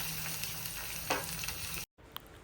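Chicken pieces tipped into a pan of frying onions and green chillies for a simple home-style chicken curry, giving a steady close sizzle with a brief burst of added crackle, then a short silent break and a quieter sizzle.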